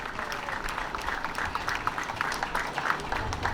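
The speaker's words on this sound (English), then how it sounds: "So please, a round of applause for everybody." Audience applause at a city inauguration ceremony in Paterson: a steady wash of many people clapping, moderately loud and continuous, with a faint low rumble of the hall beneath.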